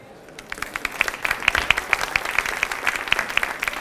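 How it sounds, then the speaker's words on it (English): Crowd at an inspiration award event breaks into steady applause, many hands clapping at a moderate distance with sharp individual claps standing out throughout. "give a warm welcome, a very good round of applause to Claudia Mathiasen"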